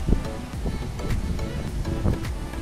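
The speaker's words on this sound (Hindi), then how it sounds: "इस वक्त बड़ी जबरदस्त हवा चल रही है" Strong wind gusts buffet the microphone outdoors near an airport area, a steady rushing roar with broadband bursts and low rumble throughout, close and fairly loud, with no speech.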